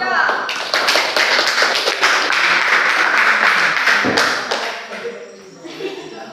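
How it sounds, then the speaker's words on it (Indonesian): A school class applauds a student group, a dense burst of close clapping from many hands lasting several seconds and then fading out. "Silakan beri aplaus untuk kelompok 3."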